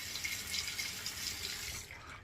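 Tap water runs steadily into a sink while a razor is rinsed, a soft continuous splashing stream that trails off at the end.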